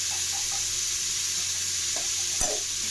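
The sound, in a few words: raw mango pieces sautéing in hot oil with mustard seeds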